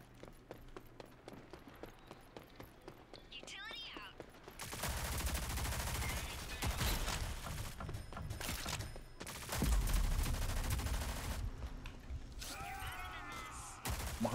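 Rapid rifle gunfire in the Rogue Company video game, bursts of loud sharp shots growing denser partway through and peaking near the end, mixed with game effects and occasional talk.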